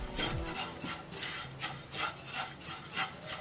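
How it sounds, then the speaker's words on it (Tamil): Oats are stirred and fried in a hot pan over a low flame, producing a rhythmic dry scraping roughly every half second, close and fairly loud with no talk. "இந்த ஒரு கப் ஓட்ஸை ஆட் பண்ணி கொஞ்சம் 2 to 3 minutes வந்து நம்ம கொஞ்சம் ஃப்ரை பண்ணி எடுத்துக்கலாம்"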